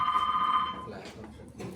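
A telephone rings in a staged live Hindi theatre play, a short ringing burst at the start that fades out, followed by faint stage noise and room sound.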